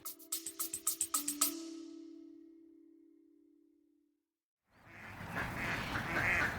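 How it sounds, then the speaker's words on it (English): Ducks at High Ash Farm head in to roost for the evening: a rapid run of close quacks, then a fading drawn-out call, a pause and a rush of broadband noise. "The ducks at High Ash Farm going in to roost for an evening."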